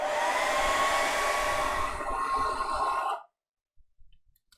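A hair dryer blows steadily on watercolor paint, a loud close whirring hum that cuts off abruptly after about three seconds, followed by faint handling noises.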